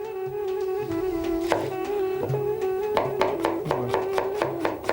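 Onion being chopped with a knife on a board for an Azerbaijani dish, a run of sharp close taps that speeds into a quick steady rhythm over a steady background hum, with no talking.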